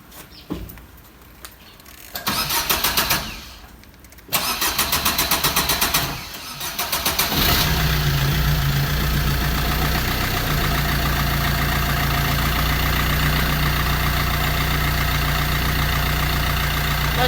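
A car with a long-cranking, hard-starting fault whirs through several starter bursts with pauses, then catches at about seven seconds and settles into a loud, steady idle that continues to the end.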